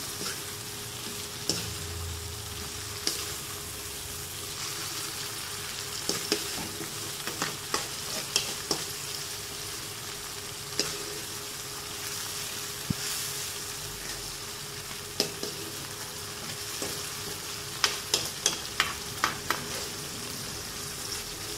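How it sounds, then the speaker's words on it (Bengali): Mustard spice paste for an okra dish bubbles and froths over high heat in a pot, giving a steady, fairly quiet sizzling hiss with scattered sharp pops and clicks across the whole stretch. "আগুন বেশি থাকায় দেখুন তাড়াতাড়ি মানে উতলে যাচ্ছে মশলাটা"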